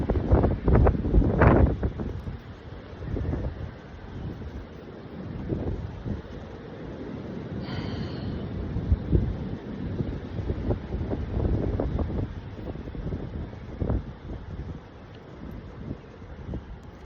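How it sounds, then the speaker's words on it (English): Steady outdoor wind picking up, a broad rushing hiss with gusty buffeting against the microphone and a few louder thumps early on, moderate and continuous without talk. "Hear that wind picking up?"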